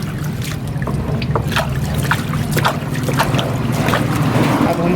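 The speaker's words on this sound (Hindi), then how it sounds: "मैं इसमें साबुन लगा करके फिर से पानी मार दिया" Water sprayed to rinse a soaped screen-printing screen used for printing wedding cards: a steady, close rushing spray with splashy crackle that runs unbroken over a low mechanical hum.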